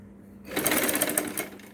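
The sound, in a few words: sewing machine stitching loops on a saree blouse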